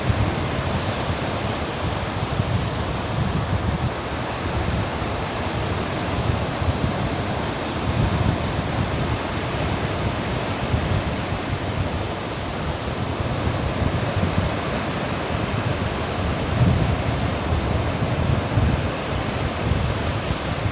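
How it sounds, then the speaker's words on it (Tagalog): Ocean waves wash and crash onto the shore in a constant loud roar, with wind buffeting the microphone and no voices over the surf. "Nindot pamation ang dinagsa sa mga balod"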